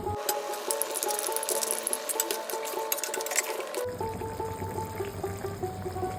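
Cashew and raisin paste goes into simmering egg korma gravy, with a wet pouring splash and light clinks of a utensil, followed by a quieter bubbling simmer and no voices.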